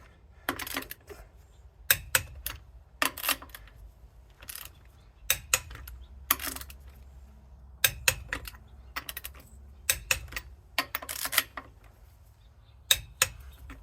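Torque wrench tightening car wheel lug nuts in a crisscross pattern during a tire change, giving a series of sharp, close clicks in irregular pairs and bursts over a quiet background.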